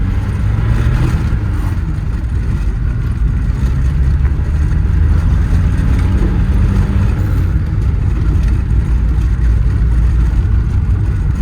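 A loud, rough engine roars steadily and continuously, heard from inside an old Tofaş car fitted with an Audi diesel engine, with a constant low rumble throughout.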